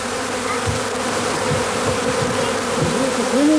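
Honey bees swarm around a straw bee skep in a steady, dense buzz that shifts in pitch as individual bees pass close by, with no talking.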